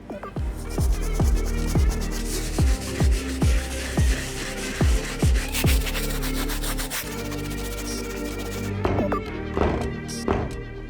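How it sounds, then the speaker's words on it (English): A medium bristle brush scrubs suede on an Air Jordan 3 in quick rhythmic strokes, close and crisp, with a steady scratchy brushing pattern that speeds up into a denser rubbing flurry before easing off. "So I'm gonna go over it with the medium brush, get a nice deep scrub"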